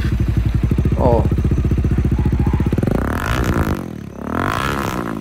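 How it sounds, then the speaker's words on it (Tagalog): Bajaj Dominar 400cc motorcycle engine runs close with a fast, even thumping idle, then revs up and down in loud surges; someone speaks briefly near the end. "O ito Dominar"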